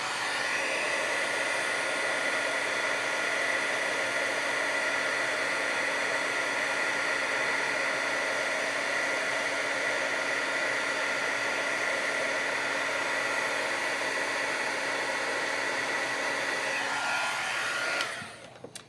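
A heat tool blows steadily while melting Tim Holtz embossing powder on a handmade card, a continuous close hiss-like whir that runs unbroken for about eighteen seconds before cutting off abruptly.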